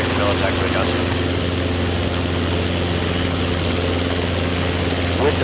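Steady idling drone of a Robinson R22 helicopter's engine and rotor as it taxis from a hangar, loud and close throughout with a constant low hum and broadband whir; faint voices appear to sit underneath.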